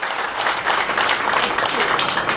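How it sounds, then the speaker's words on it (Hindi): Audience applause at a public political meeting welcoming Bihar MLAs in Mumbai, a dense, loud burst of clapping that holds steady throughout. "भाई जोरदार तालियां बजाएं"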